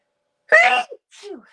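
A single loud, close sneeze bursts out, followed by a short sniff or breathy exhale.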